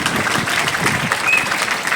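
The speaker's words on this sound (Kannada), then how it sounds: "ವಿದ್ಯಾಸಂಸ್ಥೆಯ ಅಧ್ಯಕ್ಷರಿಗೆ ಮೊದಲು ಜೋರಾದ ಚಪ್ಪಾಳೆಯೊಂದಿಗೆ ಅಭಿನಂದಿಸಬೇಕು" Loud, dense applause from an audience at a school institution's function fills the moment, a steady wash of many hands clapping at close range.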